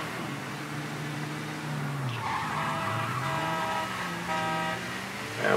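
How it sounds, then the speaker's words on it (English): Car horns beep in the video game Mafia 3, with several sustained honks from about two seconds onward over steady traffic and engine noise. "Oh, you can beep all you want to."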